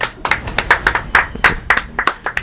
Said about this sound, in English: Let's take a moment to applaud the Borderlands 2, development team.